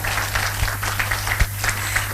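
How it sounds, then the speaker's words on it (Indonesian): Audience applause at an Indonesian Kangen Water product demonstration, a steady broadband wash of clapping at moderate level, with a few sharper claps standing out and no talk over it. "Tepuk tangan buat kita semua."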